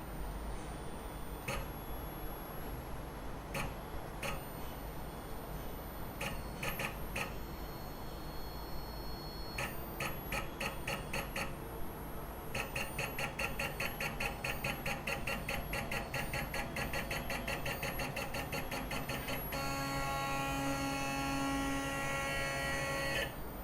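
A Mooz 3-in-1 printer drives its axis upward with a quiet, steady motor whine and faint mechanical ticks, the stepping tone shifting in a few stages.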